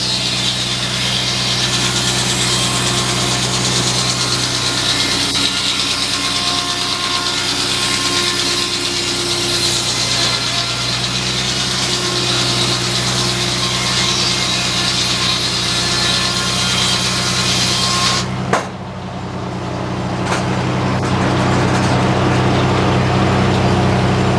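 A sawmill runs steadily at the Mason Dixon Show 2024, its engine droning under the whine of a blade cutting logs into 2x6 boards. A sharp knock lands near the end, then the steady running resumes, loud and close with no talk.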